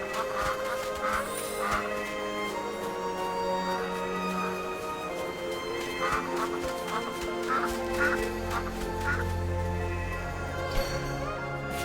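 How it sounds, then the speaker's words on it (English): Ducks quack repeatedly in the AFK Journey video game, a continuous chorus of near and mid-distance calls over layered background music, with a low droning tone joining toward the end. "But how did we end up herding ducks?"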